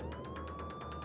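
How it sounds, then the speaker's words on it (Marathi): A police car siren sounds outside, a steady rising wail with a rapid pulsing warble, moderately loud and continuous through the short moment. "बाहेर गाडीचा आवाज येतो."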